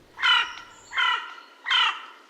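A crow cawing three times in a slow, even rhythm, each harsh call clear and close with short pauses between, heard alone.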